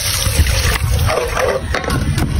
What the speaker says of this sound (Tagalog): Maglagay na tayo ng isang basong tubig.